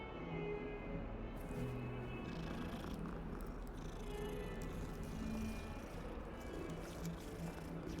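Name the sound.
cats purring and meowing in Hogwarts Legacy video game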